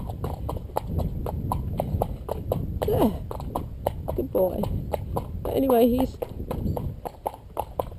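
A horse walks with steady, close clip-clop hoofbeats, someone speaking calmly over them and a brief nicker-like sound partway through.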